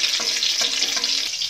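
Green chilies and five-spice seeds sizzle in a pan as they are stirred, a steady close-up frying hiss with faint scraping strokes throughout.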